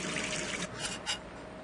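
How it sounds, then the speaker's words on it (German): Running tap water in the game Gone Home, a soft steady faucet stream with a couple of brief splashy surges, faint and alone. "Game over, du hast das Wasser zu lang angelassen."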